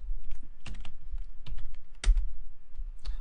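Computer keyboard typing, with a handful of separate key clicks spread unevenly across a few seconds, close and fairly quiet, with no talking.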